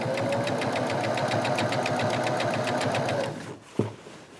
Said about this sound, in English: So go forward 5 stitches, excuse me, reverse 5 stitches, and go forward